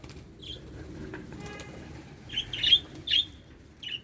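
Short bursts of wing flapping and chirps from nearby Japanese pigeons, several quick flurries in a row over a quiet background.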